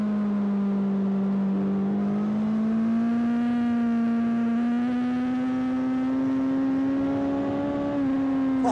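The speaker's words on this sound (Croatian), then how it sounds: "Kako je dobar, kako je gladak motor, a stari agregat." A smooth older motorcycle engine running while riding, holding a steady, even drone with a gentle rise in pitch and a slight dip near the end, no talking over it.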